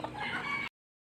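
A brief burst of chickens clucking and squawking, cut off abruptly after under a second, then silence.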